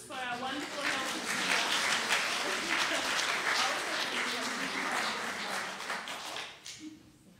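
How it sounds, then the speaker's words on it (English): A church congregation at an Easter Sunday service applauds, a swell of clapping that rises quickly, holds steady, then fades out near the end, with voices mixed in. "I think a round of applause for our wonderful announcement."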